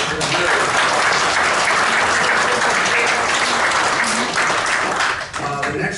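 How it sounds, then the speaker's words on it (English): A symposium audience gives a sustained round of applause for the sponsors, dense steady clapping from a large crowd filling the room, fading slightly at the end. "So give them a round of applause."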